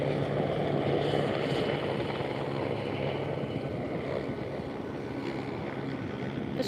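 A helicopter flying at sunset near palm trees, a steady low rotor drone mixed with wind rumble, continuous and fairly distant, with no voices.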